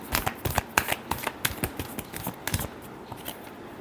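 Tarot cards are shuffled by hand in a rapid series of crisp riffling slaps and flicks, close and fairly loud, with no talking.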